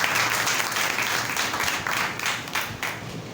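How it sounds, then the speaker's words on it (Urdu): A church congregation claps loudly during a worship service, a dense, steady patter of many hands lasting the whole few seconds with no voices over it. "خدا کے روح کے لیے زوردار تالیاں بجائے۔"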